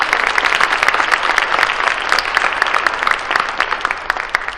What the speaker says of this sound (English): Let's give them a round of applause for being such involved community partners and for supporting us.